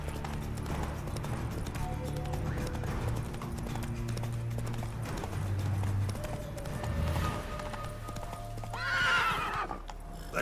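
Clip-clop of the horse Roach galloping in The Witcher 3 runs under steady game music, with a loud neigh near the end.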